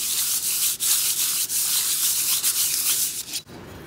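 Steady abrasive rubbing and scraping as the propeller mounting surface of a Rotax 582 engine is hand-rubbed flat, a close, continuous gritty sweep with slight rhythmic strokes before it stops abruptly.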